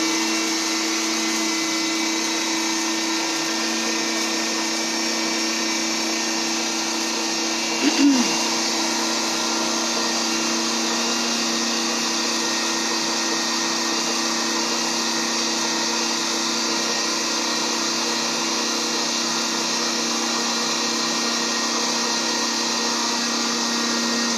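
An electric grinder runs continuously at a steady high-pitched whine as spices for ghutwa or majlisi kabab are ground finer, with one brief bump partway through and no talking.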